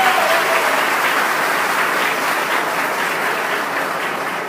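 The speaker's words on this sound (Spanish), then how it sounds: "Un aplauso también para él." Sustained audience applause for the mayor-elect of Barranquilla at a road-project launch ceremony in Pivijay, a dense steady clatter of many hands, fairly loud and close, easing only slightly over its length.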